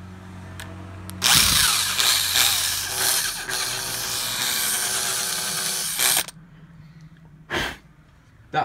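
A power drill bores into a part while a new 80cc motorised bicycle is being built. A loud whirring burst starts after a second, runs steadily for about five seconds, then stops abruptly, followed by one brief second burst.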